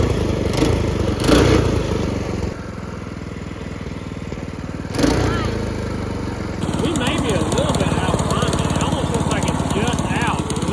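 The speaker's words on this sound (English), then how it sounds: "let's let it sit there and run since it's a brand new engine" The new small engine on a homemade drift trike built from a Radio Flyer wagon idles with a steady mid-pitched putter and brief revs. People talk nearby.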